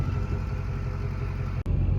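A lifted, 600 hp Duramax LB7 diesel truck with 350,000 miles and a MagnaFlow aftermarket exhaust idles with a deep, steady rumble close by, briefly cut by one short dropout before resuming.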